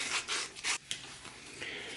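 Edge of a leather case for a Victorinox knife being sanded smooth along the bevel: quick, hissing back-and-forth rubbing strokes, close and steady, with a short pause partway through.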